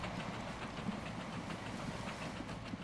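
Trains run on the tracks in the Transport Fever video game: a steady rolling rumble with a faint rhythmic clickety-clack of wheels over rail joints. The sound holds at an even level throughout, and nobody speaks.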